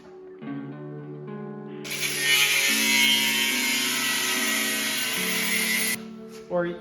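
A power tool cuts into the muffler of a BMW E30 in a garage, giving a loud, steady, harsh grinding for several seconds over a low mechanical hum, then stopping abruptly.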